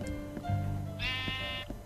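Sheep bleating in Minecraft: a short harmonic bleat followed by a higher wavering one, clear and moderately loud over faint game background.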